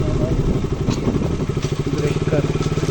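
Motorcycle engine running close by with rhythmic, pulsing low thumps as the bike rolls over a speed breaker and stalls, a steady throb throughout with a few clattering knocks.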